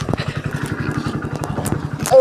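A motorcycle is being ridden, its engine giving a steady, close, rapid low putter throughout, while a voice speaks over it near the end.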